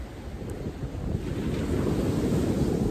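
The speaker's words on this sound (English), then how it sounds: "Look at these waves." Ocean waves break and roll onto a beach in a continuous loud, rumbling surge, with heavy wind buffeting the microphone and no talk.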